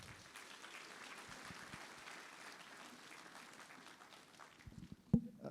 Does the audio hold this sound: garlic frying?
no